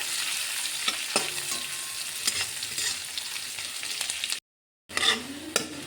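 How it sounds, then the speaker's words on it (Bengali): Chopped onions frying in a pan of oil, a steady sizzle with scraping stir strokes, a brief silent gap near the end, then sizzling resumes. "পেঁয়াজগুলো বেশ ভালোভাবে ভেজে নেব।"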